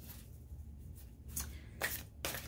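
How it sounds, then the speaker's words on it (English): Oracle cards shuffled by hand, soft riffling and papery flicks in several short bursts over a faint background hiss, close and quiet. "These cards are really difficult to shuffle."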